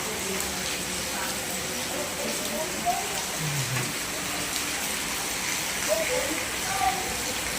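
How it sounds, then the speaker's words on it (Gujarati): Steady rain hissing on surfaces, an even wash of noise throughout, with faint indistinct sounds now and then beneath it. "વરસાદ ચાલુ થઈ ગયો"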